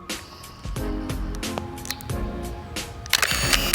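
A Contax 645 medium-format film camera fires its shutter at 1/1000 of a second, giving a series of crisp, close mechanical clicks spaced irregularly over faint background music.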